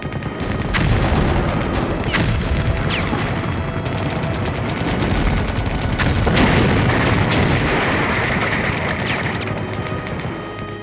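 Artillery fires at nearly point-blank range against attacking troops at Bloody Ridge on Guadalcanal, a dense continuous roar of booms and blasts layered with rapid gunfire, loud and close throughout with no speech.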